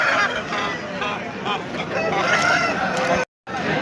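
Roosters and hens clucking and crowing at a busy hen market, an Abras rooster among the birds, steady crowd noise with people talking throughout.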